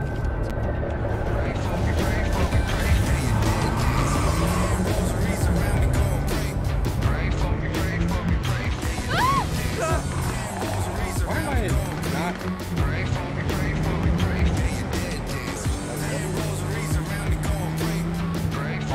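A car driving in the video game Cyberpunk 2077, a steady engine drone with shifting pitch and tyre noise running throughout, with voices talking over it.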